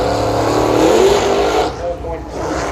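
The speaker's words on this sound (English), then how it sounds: "Rocky Barbaro is down here in the lovely 68 Camaro, powered by the 540 Chevrolet pit block down here" A 1968 Camaro powered by a 540 Chevrolet engine drag races at a street meet, its loud engine roaring and fading as it runs, under a commentator's talk.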